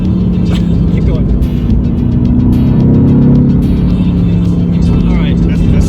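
Mercedes GT-R engine revving hard through rapid gear shifts, a loud, dense, close-up roar with sharp crackles at each change, voices faintly talking underneath.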